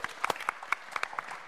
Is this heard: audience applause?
yes